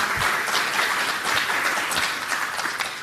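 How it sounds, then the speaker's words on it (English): A lecture audience claps together, a steady, moderately loud patter of many hands with a few sharper individual claps standing out, lasting about three seconds. "Yes, clap."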